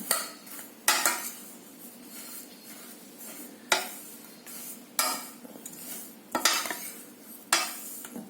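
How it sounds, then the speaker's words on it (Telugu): Jaggery being stirred into a sesame and coconut mixture in a pan for laddu, with a spoon scraping and clinking against the metal in several sharp strokes amid a soft rustling, no voices. "బెల్లం వేసి కలిపేసేయండి"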